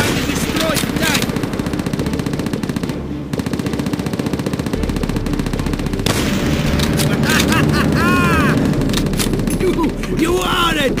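Rapid machine-gun bursts and rifle shots fill a World War II battle in a video game, dense and loud throughout, with booms, whizzing sweeps and shouted voices over the fighting.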